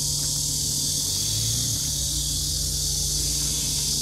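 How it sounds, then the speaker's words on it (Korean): Cicadas sing outdoors near pumpkin flowers in Hamyang, a loud, unbroken high-pitched buzz that holds steady throughout over a low hum. "매미소리."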